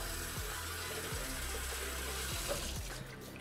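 Hot water runs steadily from a tap to wash paint sprayer parts, a dense continuous rush with occasional low knocks as parts are handled, close and constant until it drops slightly at the end.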